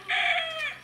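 A rooster on a farm gives a single short, clear crow, fairly close and loud, lasting under a second with nothing else around it.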